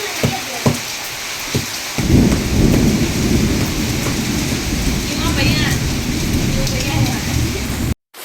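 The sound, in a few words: heavy rain with thunder in a village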